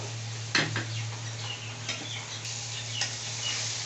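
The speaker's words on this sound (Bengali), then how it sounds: "এখন মশলাটা কষিয়ে নেব।" Spice paste stir-fried with fried potatoes in a pan, giving a soft low sizzle under a few sharp scrapes and knocks of a spoon against the pan, with a steady hum in the background.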